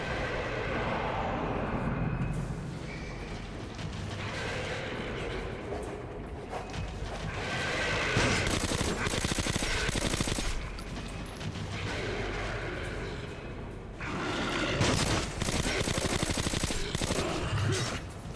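Sustained turret gunfire from a swinging basket section of the shooter game Metro Last Light, a dense, continuous barrage with heavier bursts rolling in around the middle and near the end.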